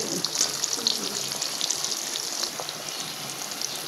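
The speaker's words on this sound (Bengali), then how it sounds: "কারকল ভাজা হয়ে গিয়েছে" Spiny gourd (kakrol) pieces frying in hot oil in a pan, a faint, steady hiss and crackle heard up close with no talk.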